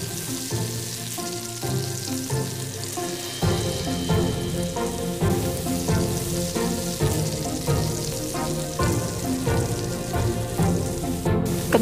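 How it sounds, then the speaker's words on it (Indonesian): Thin potato slices fry in hot oil for homemade perkedel kentang, giving a loud, continuous crackling sizzle with dense popping bursts that grows fuller after the slices are added, close and alone. "Setelah bawang merah dan bawang putihnya mateng, lanjut kita goreng irisan kentangnya"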